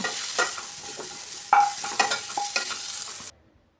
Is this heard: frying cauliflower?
yes